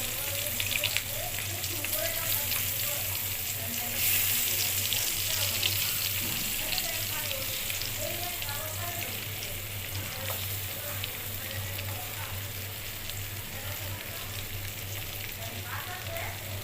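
Tengra fish, marinated with spices, sizzles steadily in hot oil in a pan on a stove, a continuous crackling fry with faint kitchen clatter.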